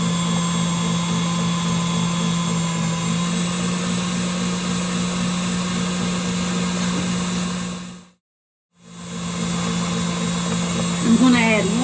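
An electric mixer beats meringue with granulated sugar toward stiff peaks, making a loud, steady whirring drone with a constant pitch. It cuts out for a moment, then resumes at the same level.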